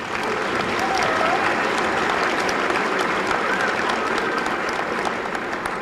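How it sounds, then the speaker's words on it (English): A school assembly audience applauds steadily at a Veterans Day event, a dense, continuous wash of many hands clapping at once that holds at an even, fairly loud level throughout. "Let's give them another round of applause for that."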